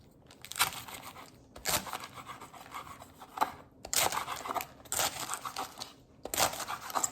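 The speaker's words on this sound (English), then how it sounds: "I like my collards cut kind of small, so I'll just cut them like this, kind of fold it up." Knife chopping collard greens folded up on a cutting board, heard as repeated rasping, crunchy cutting bursts in several separate groups, close and fairly quiet with no talk.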